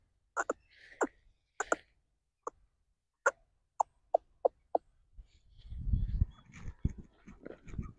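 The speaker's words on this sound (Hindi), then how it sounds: "ये हमारी मुर्गियाँ हैं, जिसमें सबसे अहम मुर्गा जो है वो ये है" Backyard chickens and a rooster make a series of sharp, close clucks spaced irregularly, then a softer, low, shuffling rumble of movement near the end; no one talks.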